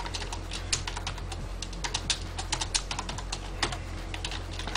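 Typing on a computer keyboard while entering Python code, a close series of light, irregular key clicks and taps with brief pauses, no talk.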